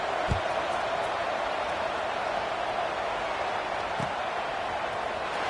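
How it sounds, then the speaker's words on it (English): Stadium crowd in a college football video game, SMU versus Miami, humming as a steady, loud broadband roar through the whole stretch, with a couple of faint low thumps and a commentator talking over it. "this crowd is buzzing after that last score."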